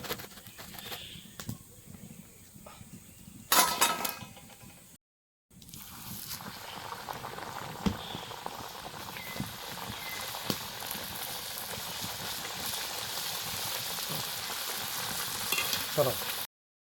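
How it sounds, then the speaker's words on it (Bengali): Kuli pitha made from wheat flour fries in hot oil with a steady sizzle. A brief clatter and a short silent gap interrupt it before the sizzling continues with occasional clinks. "আটা দিয়ে বানিয়েছি যার জন্য তাড়াতাড়ি ভাজা হয়ে যাচ্ছে। এরকম করে সবগুলো ভেজে নিচ্ছি।"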